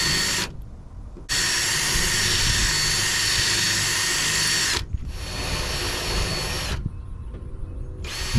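A power drill bores out spot welds in the sheet metal of a 1967-72 Chevy truck, a loud, steady high-pitched whine running in long bursts with brief pauses between them.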